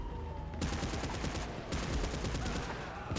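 Rapid gunfire in GTA Online crackles in dense overlapping bursts that start after a brief quieter moment and continue steadily to the end, loud and close.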